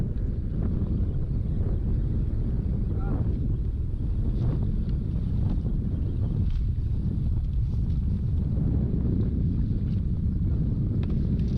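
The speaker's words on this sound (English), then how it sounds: "That wind really started to pick up here." Strong wind buffets a fishing boat on Oneida Lake, a loud, steady roar and rumble of wind noise across the microphone with water movement underneath, continuous and close, with no talk.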